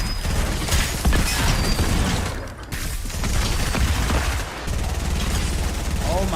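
Fortnite gunfire in a busy battle, a steady stream of rapid shots and mechanical clatter with brief gaps, loud and continuous over several seconds.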